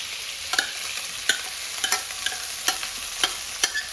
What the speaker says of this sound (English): So I'm going to pop in my already cooked rice. Be careful, it will splatter at you.